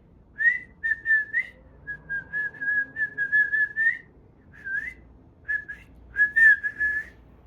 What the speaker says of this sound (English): I found myself whistling from the gym today.